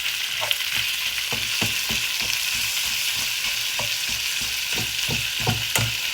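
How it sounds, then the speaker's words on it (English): Mince frying in a pan, a steady close sizzle broken by repeated scraping and stirring clicks at an irregular rhythm, with no talk. "We're going to fry the mince in"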